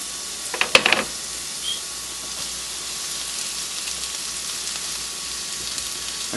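Vegetables drop into a hot pan of olive oil with onions and herbs, giving a short clatter and burst of sizzle, then a steady soft frying hiss that continues alone.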